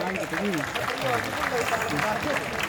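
Students of Maharshi Dayanand University clap in welcome: dense, continuous applause from a large gathering, with voices and shouts mixed into the clapping.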